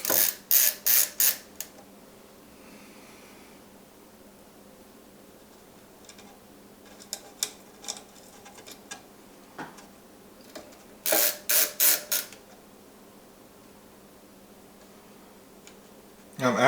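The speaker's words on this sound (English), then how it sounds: "they want us just to put the screws in place first" Screws being placed by hand during assembly of a Prusa MK4 3D printer, giving short bursts of small ratcheting clicks and ticks in clusters separated by quiet stretches, close and fairly faint.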